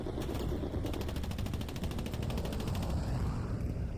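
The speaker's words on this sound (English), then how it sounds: "Strafing run." Strafing run by an aircraft in the Hell Let Loose war game: a dense, rapid stream of loud automatic gunfire bursts, steady and continuous across the whole span over heavy rumbling battle noise.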